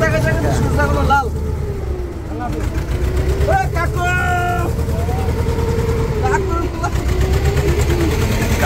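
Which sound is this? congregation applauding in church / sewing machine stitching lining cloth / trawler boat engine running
trawler boat engine running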